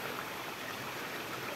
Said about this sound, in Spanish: Ahí se oye correr el agua.